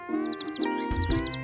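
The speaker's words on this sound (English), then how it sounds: "You're right. Those are birds." Birds chirp in rapid repeated bursts of high tweets, close and clear, over a sustained low musical drone.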